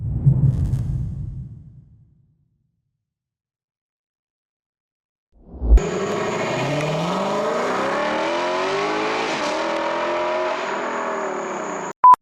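A car engine winds up hard under full throttle, holding high revs in a loud, steady roar after a quieter low rumble and a brief silence, then cutting off abruptly.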